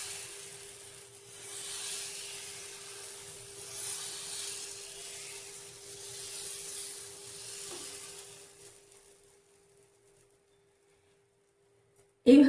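Suji and besan batter sizzles as it is swirled onto a hot pan over a low gas flame, a soft, steady hiss that gradually fades to near silence before a sudden clatter at the very end.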